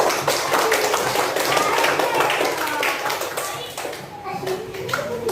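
A group of children in a classroom clap together, brisk and close, with young voices chattering and calling over the applause.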